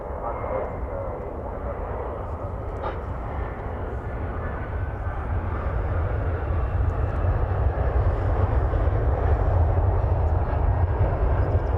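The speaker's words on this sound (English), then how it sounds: "Here goes the A300." Airbus A300 jet taking off at DFW Airport, a broad steady engine roar that builds gradually in loudness over about twelve seconds, heard from a distance with no talk.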